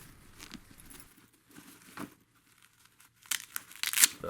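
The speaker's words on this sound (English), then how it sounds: "Let's unzip this zipper here." Zipper on a Rockland softside carry-on suitcase being opened in a few short, close bursts of scratchy zipping and fabric rustle, separated by quiet gaps, with no voices.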